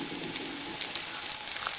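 Garlic frying to golden in a pan with tomatoes about to go in, giving a steady, close crackling sizzle throughout with scattered sharper pops and no voices.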